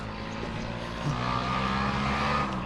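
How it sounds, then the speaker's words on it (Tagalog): A loud motor drones steadily nearby, swelling slightly as it approaches from behind, with no one speaking. "ang lakas ng motor guys, papunta dito sa likuran ko"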